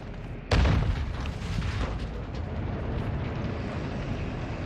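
A single heavy blast from enemy gunfire in Call of Duty: Modern Warfare 2 (2022) hits suddenly and loud, then trails into a dense, rumbling battlefield wash that holds steady to the end.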